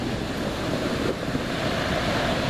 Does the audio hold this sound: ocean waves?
yes